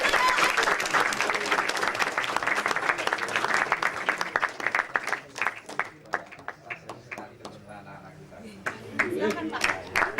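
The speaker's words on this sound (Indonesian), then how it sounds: "Dan kita panggil saja dengan tepuk tangan ya." Applause from a student audience at a university orientation event welcoming a speaker: loud sustained clapping that thins into scattered individual claps toward the end, with voices mixed in.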